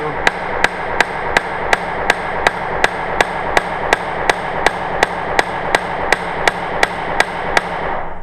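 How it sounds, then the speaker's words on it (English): Steel hammer blows mushroom the end of a solid rivet, about twenty sharp, evenly spaced strikes ringing out close and loud in a steady rhythm over a faint background hum. "when we set the rivet or mushroom out the end of it"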